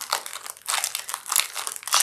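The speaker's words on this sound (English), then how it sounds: "let's open our pre-printed pattern" A paper pre-printed stitchery pattern is unfolded and opened, giving close, crisp crinkling and rustling in several quick bursts with no voices.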